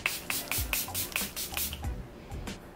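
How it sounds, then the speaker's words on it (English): Several quick bursts of a hydrating makeup setting spray misted onto a face up close, about eight short hissing pumps in an irregular rhythm, with no talking. "We're using the IL MAKIAGE Hydrating Setting Spray. And we're just going to set her."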